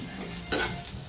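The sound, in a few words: stir-frying roasted green chickpeas in a pan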